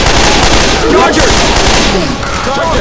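Steady, loud automatic gunfire and combat noise from a modded survival match in the video game Left 4 Dead 2, with voices shouting over the action the whole time.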